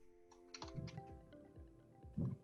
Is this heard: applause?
no